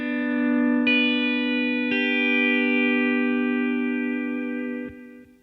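Pedal steel guitar sounding single notes against ringing chord groups, with sustained harmonic tones and two new attacks partway through, played alone and fading at the end.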